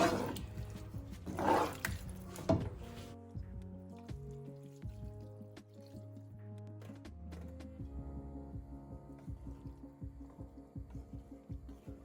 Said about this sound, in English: just add some boiling water to get a bit of sauce going on in this